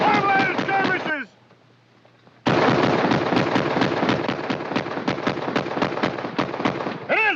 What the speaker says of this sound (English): sounds like a Gatling gun